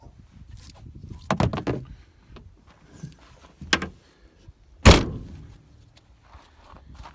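A 1985 Subaru GL wagon is being closed up: scattered thumps and knocks of panels and parts, then one sharp, loud slam near the middle, with quieter handling noises around it.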